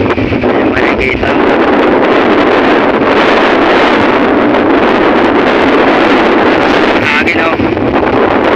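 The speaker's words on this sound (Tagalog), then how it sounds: "Hangin o." Strong wind buffets an outdoor microphone near a small boat by a hut, a dense, continuous roar that stays loud for the whole stretch with brief gusting surges.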